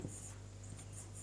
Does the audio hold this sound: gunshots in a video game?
no